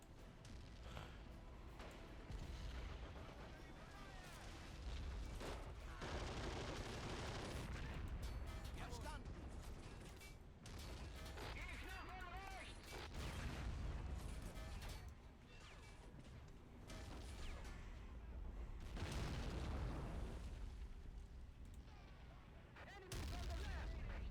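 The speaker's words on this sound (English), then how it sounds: "No, mortar fire. They are using mortars against me now." Mortar and artillery blasts from the World War II strategy game Men of War: Assault Squad 2, set during Operation Market Garden, booming in a dense, continuous barrage with heavy crashes and a voice talking over the battle.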